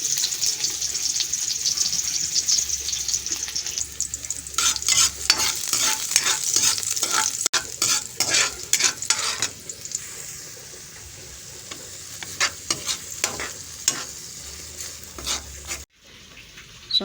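Food hisses in hot oil while a utensil stirs and scrapes the pan, loud crackling bursts in the middle that settle into a quieter sizzle, close by with no talking.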